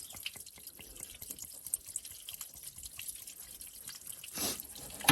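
Water draining out of a Rambler car sitting on a steep tilt, with rapid close drips and small splashes pattering irregularly, then a short louder gush of water near the end.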